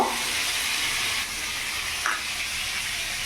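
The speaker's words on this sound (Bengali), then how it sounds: "এখানে পটলটা আমি ভাজা করছি" Pointed gourd (potol) frying in a pan gives a continuous even hiss and sizzle at a moderate level, with no voices.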